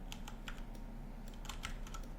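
Computer keys and mouse buttons click in quick, irregular taps, close and fairly quiet over a low steady hum, with no voices.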